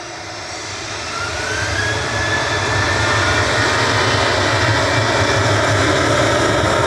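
Ryanair flight 6967 to Copenhagen takes off from Manchester Airport, its jet engines building from a moderate roar into a loud, sustained rumble with a thin rising whine.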